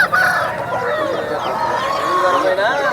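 At a gamecock market in Nallapadu, roosters crow and cluck close by, with drawn-out calls overlapping someone talking in the foreground.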